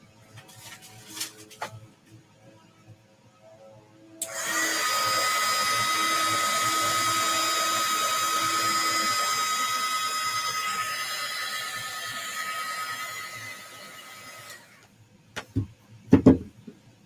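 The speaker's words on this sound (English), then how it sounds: "I'm going to also use my heat gun to help dry up some of that liquid." A heat gun blows steadily for about ten seconds, a loud, even whine with a fan hiss, drying liquid on adhesive vinyl applied to glass, with a few light clicks and handling knocks before and after.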